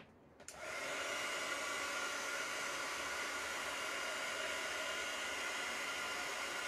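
A hair dryer switches on after a brief click and runs steadily, close and loud, a continuous whooshing roar of blown air used to heat the metal lid of a large glass palm-heart jar.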